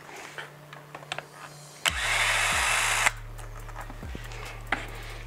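A power drill whirs for about a second on screws in the brace of a Traxxas Ultimate Hauler 1:10 RC truck, with a short second burst and light clicks of handling around it, close and clear.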